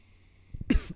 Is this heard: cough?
yes